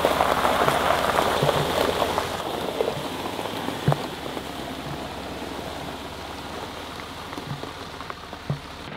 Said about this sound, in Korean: 빗소리가 사람 마음을 굉장히 차분하게 하네요